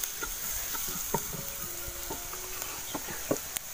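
Chilli masala is stirred into frying onions in a pan over a wood-fired stove, giving a soft steady sizzle with scattered light scraping and clinking of the spoon, close but quiet.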